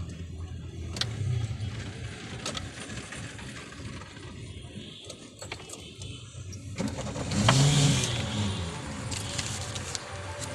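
A car under way in a driving school lesson, its engine humming steadily with a louder rev or acceleration swell near the end, broken by clicks and cabin noises.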